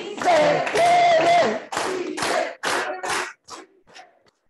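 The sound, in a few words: crowd organized rhythmic hand clap chanting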